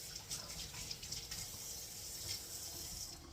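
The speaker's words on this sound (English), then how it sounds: "So I wash my hands just." Hands being washed under a running kitchen tap while preparing Scotch eggs, a steady soft hiss of flowing water with faint splashes, quiet and continuous, no voices.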